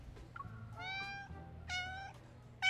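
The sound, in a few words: agitated cats meowing in video game Love & Deepspace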